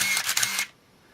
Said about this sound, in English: we heard it wind a few times and fire the shutter